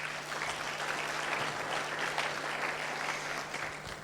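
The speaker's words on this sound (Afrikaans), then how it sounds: "Kan ons net vir 'n hande klap gee asseblief?" An audience breaks into sustained applause at a gathering, a steady wash of many hands clapping at moderate distance over a faint low electrical hum.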